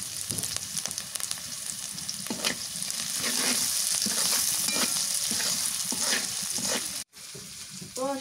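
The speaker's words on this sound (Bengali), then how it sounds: "রসুন, কাঁচামরিচ তার মধ্যে ভালো করে ভেজে না নাকবো, লাল লাল করে ভেজে না নাকবো" Garlic and green chilies sizzle hard in a hot pan, a loud, steady frying hiss with occasional stirring scrapes, a brief cut near the end, then a quieter sizzle resumes.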